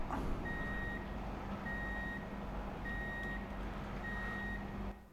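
Four evenly spaced electronic reversing beeps from a backing truck in the video game Truck And Logistics Simulator, steady and clear over a low engine rumble, with no talking.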